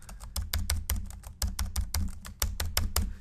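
Keyboard shortcut keys on a computer are pressed again and again, a quick run of sharp, close clicks in uneven clusters.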